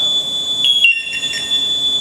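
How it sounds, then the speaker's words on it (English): A firefighter's PASS alarm sounds a high, piercing electronic tone steadily and loudly, with a slight wavering pitch and a brief interruption partway through. "reset our pass alarm and turn it off."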